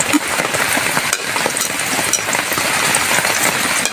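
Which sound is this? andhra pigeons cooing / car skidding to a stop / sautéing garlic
sautéing garlic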